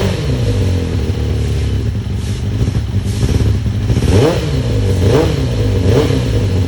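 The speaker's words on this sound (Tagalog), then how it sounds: "At matesting natin kung meron bang nagbago sa tunog ng big bike." A big motorcycle engine with a suspected exhaust leak idles with a rough, throbbing rumble, then revs up sharply in two or three quick blips near the end.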